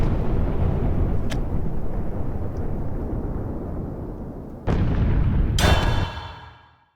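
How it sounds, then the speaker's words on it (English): An anime explosion effect: a long, loud rumbling roar fills the scene, then a sudden sharp blast hits and fades out to silence. "That was even bigger than the explosion during the exam."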